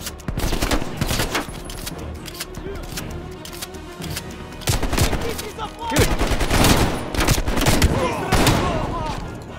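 Rapid bursts of automatic gunfire in Call of Duty: Black Ops Cold War rattle loudly in repeated volleys with short pauses, mixed with other game action and a voice at times.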